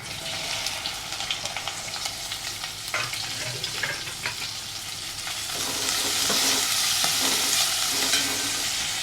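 Okra sautés in hot oil over a low flame, giving a steady frying hiss with occasional stirring clatter, and the sizzle swells louder partway through.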